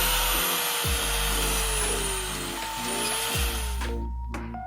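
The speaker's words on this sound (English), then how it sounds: "he then spends the next 5 to 6 hours drilling out the remaining studs in the manifold" A loud, steady power drill whines continuously with shifting pitch while drilling out studs in an exhaust manifold, briefly dropping out twice before revving again, ending with a few short bursts.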